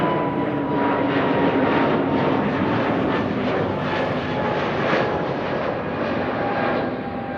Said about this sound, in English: SAS A340 Neo by the looks and sound of it.